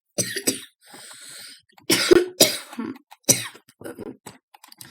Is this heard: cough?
yes